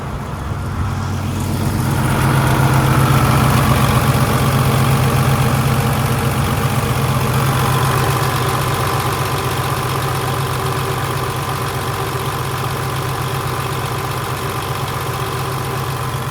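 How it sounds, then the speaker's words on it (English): A Paccar MX 500 hp diesel idles in a 2017 Kenworth T680 with the oil filler cap removed. The loud, steady rumble builds over the first two seconds, then holds an even, throbbing drone with no talk. "I will take the oil filler cap off, let you have a listen, and let's see what kind of blow-by is coming out of there."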